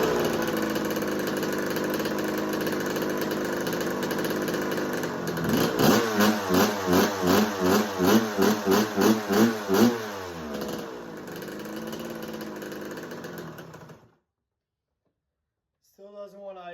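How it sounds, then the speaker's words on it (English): A Kawasaki KX125 two-stroke dirt bike engine runs roughly, then is blipped in a quick series of rising revs before sagging and dying out as it fails to idle, followed by silence and a brief voice. "Still doesn't want to idle on us."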